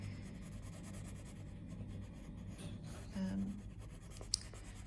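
Pencil shading on paper, a faint continuous scratchy rubbing with light pressure changes.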